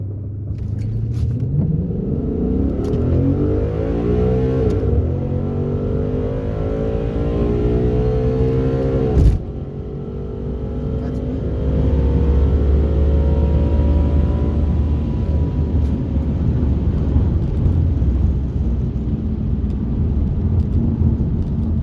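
A red 2015 Ford Mustang at a race track, its engine rumbling loudly from inside as it accelerates through rising gear pulls, briefly drops at a shift, then holds a heavy steady drone.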